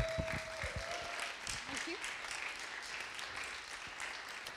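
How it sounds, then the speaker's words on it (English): A church congregation at a Sunday evening service in London applauds a woman coming up to lead, a broad wash of clapping filling the room while talk murmurs underneath. "So if you give her a massive round of applause when she comes up."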